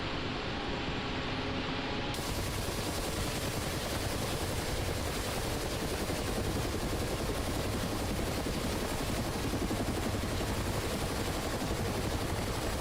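Helicopter turbine engines in the flight simulator DCS World winding up toward higher rotor RPM, a dense, loud, constant roar and whine that fills the whole stretch, with no talk.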